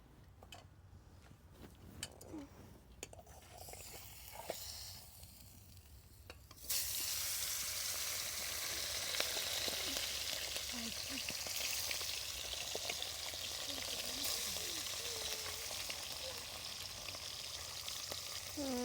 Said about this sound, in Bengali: এই কটা ভেজে নিই, তারপরে ওইগুলো দেবো।